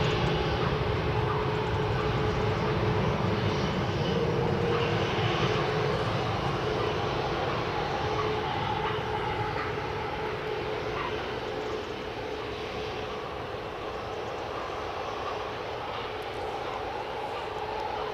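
A Qatar Airways Airbus A350 departs Edinburgh airport, its engines a broad, steady roar that holds loud and then slowly eases as the jet draws away.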